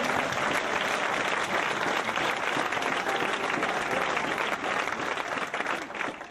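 Sustained, dense applause from an audience at a French-language religious talk, steady clapping throughout that fades slightly at the end.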